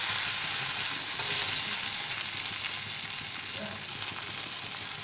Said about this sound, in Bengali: আদা রসুনের পেস্টটা কিন্তু একটু তেলের সাথে ভাজা ভাজা হয়ে গেছে